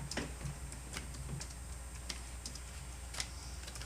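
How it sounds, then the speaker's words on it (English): A deck of cards is shuffled during a tarot-style reading, heard as faint, scattered crisp flicks and ticks in an otherwise quiet room, with no talking. "I'm gonna start shuffling the cards, and I want you to tell me when to stop."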